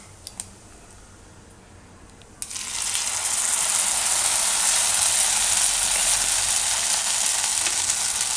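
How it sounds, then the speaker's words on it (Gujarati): Handvo batter, a savory Gujarati lentil-rice batter, is poured into a hot pan with sesame seeds and bursts into a loud, steady sizzle after a quiet moment, the frying continuing strongly throughout without any talking. "હવે એમાં આપણે આ ખીરું નાખીશું."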